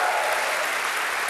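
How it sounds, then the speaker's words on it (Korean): Audience applause in a television comedy club studio, a loud, dense, even wash of clapping that holds steady for its full brief length. "여러분 뜨거운 박수와 함께 출발할까요?"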